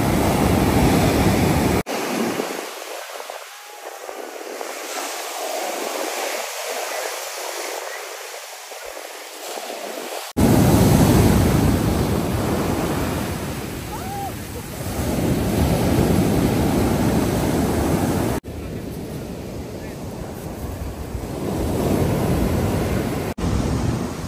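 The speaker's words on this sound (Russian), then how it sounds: "Волны здесь очень большие" Big sea waves break and roll onto the beach at Kefalonia, a loud, steady surf roar with heavy wind buffeting the microphone and a few abrupt cuts.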